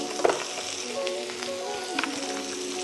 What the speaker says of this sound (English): This is when the Malibu rum goes in.